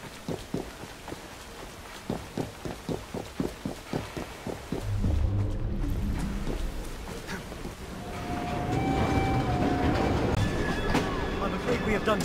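A train in the video game Assassin's Creed Syndicate rolls on rails, a regular clacking rhythm of wheels over track joints at first, then a louder rumbling surge, with dialogue voiced over it.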